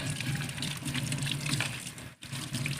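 Fish rinsed under a running tap, a steady close gush of water with a brief break near the end.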